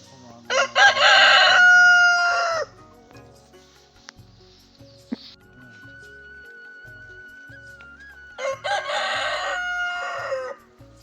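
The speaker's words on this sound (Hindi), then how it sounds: "यह है पहाड़ी मुर्गा, लोगों को बहुत काट रहा है आजकल।" A Himalayan hill rooster crows loudly and close by, two full, long calls separated by several seconds of quiet rural background with faint ambient sounds in between.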